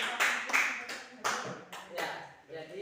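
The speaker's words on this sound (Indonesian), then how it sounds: "Tepuk tangan dulu adik-adik." Students in a classroom applaud, with several short bursts of clapping close to the microphone and spaced irregularly, fairly quiet overall, with some voices mixed in.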